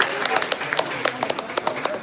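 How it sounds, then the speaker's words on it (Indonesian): Audience applause for five performers at an evening dance show, a brisk run of close, crisp handclaps with distinct individual claps standing out over a steady patter. "Sekali lagi berikan tepuk tangan yang meriah kepada kelima pengunjung yang sangat luar biasa"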